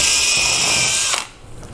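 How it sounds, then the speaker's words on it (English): A power drill bores into the wood at a door hinge, a loud high-pitched motor whine held for about a second, then it spins down and stops, leaving faint room noise. "I'm going to drill down into this hole"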